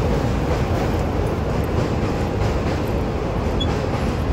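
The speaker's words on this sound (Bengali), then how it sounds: "আর ওইদিকে ট্রেন যাচ্ছে" A train passing near a road bridge amid heavy traffic, a loud, steady low rumble and roar that fills the whole moment without a break, with no voices.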